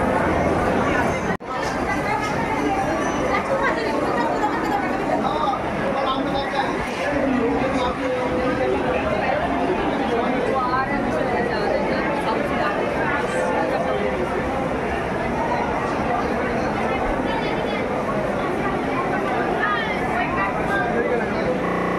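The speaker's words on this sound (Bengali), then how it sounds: "প্রচুর ভিড় আছে স্টেশনে" Dense crowd babble fills Sealdah railway station, a constant close murmur of many overlapping voices with a nearer voice talking over it throughout.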